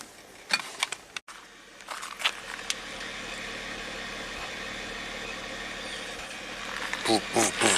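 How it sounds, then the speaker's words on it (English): A Honda Pilot V6 with a remanufactured replacement engine idles at the exhaust pipe, a steady low rumble with puffing pulses, close by, while a person talks briefly and knocks sound near the start and end. "let's listen to the exhaust pipe"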